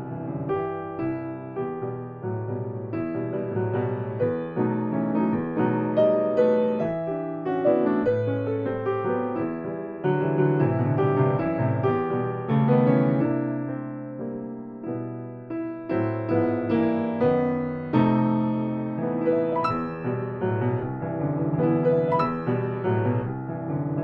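The theme of Margaret Bonds' Troubled Water, built on the spiritual Wade in the Water, played as a continuous, moderately quiet melodic passage of rich sustained notes in an irregular meter, with no talking.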